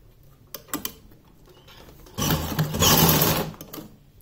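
Sewing machine stitching a small doll's dress for a Laddu Gopal figure, a few light clicks followed by a steady whirring run of about a second and a half, close and loud.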